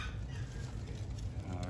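Five-month-old young hens of an Aztec breed clucking softly in a steady, busy murmur under a constant hiss of background noise, with no clear single call standing out.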